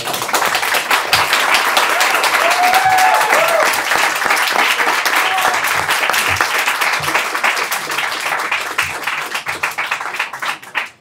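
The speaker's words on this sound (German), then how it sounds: "Ein Applaus, danke." Loud audience applause at a panel discussion on corruption in Austria, sustained clapping with a few cheers mixed in, gradually thinning toward the end.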